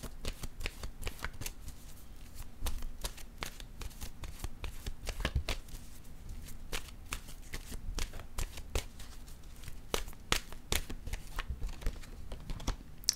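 Oracle cards being shuffled by hand, a steady run of crisp riffling snaps and soft slides repeating over about thirteen seconds, close and fairly quiet, with no talking.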